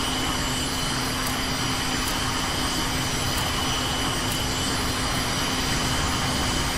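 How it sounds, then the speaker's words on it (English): Jet engines of a VTOL aircraft in a flight game drone loudly and steadily, a broad roaring hum with a fixed tone held throughout and faint periodic clicks, no talking. "with this on, I'm going to turn on the engines"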